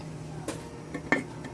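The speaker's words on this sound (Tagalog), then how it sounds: "Takpan muna natin siya." A metal lid set onto a cooking pot of simmering Filipino nilaga beef soup, giving a couple of light clinks and a sharper knock near the end, close by against a quiet kitchen hum.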